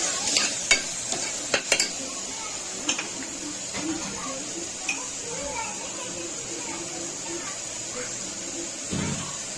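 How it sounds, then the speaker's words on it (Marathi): Turmeric being stirred into a pan of jackfruit seed curry, a soft steady scraping and sizzle with a few sharper utensil clicks early on, fairly quiet and continuous over faint background activity. "थोडीशी हळदी मिक्स करून घ्यायची आहे।"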